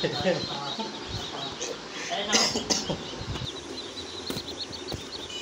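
Desi chickens on a village poultry farm cluck and call in scattered bursts at close range, mixed with a person talking and general yard noise.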